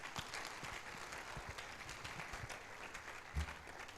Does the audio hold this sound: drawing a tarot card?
no